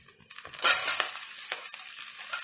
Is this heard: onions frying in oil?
yes